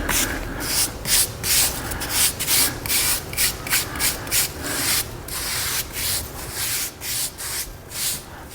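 A brush scrubs the Alcantara fabric of a Porsche GT3 RS steering wheel in a steady series of short, close strokes, a rhythmic rubbing swish with no talking.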